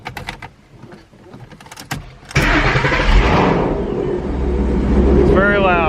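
A car engine cranks and starts up inside an enclosed space, then settles into a loud, steady idle with a brief whine near the end; the car has a faulty transmission.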